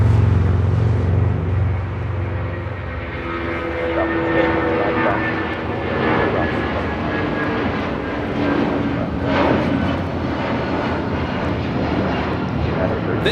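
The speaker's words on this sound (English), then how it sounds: "This is United Airlines 1331 taking off to Newark on a 757-200" A United Airlines Boeing 757-200 takes off with a loud, sustained engine roar and whine that swells and lingers, while someone talks over it.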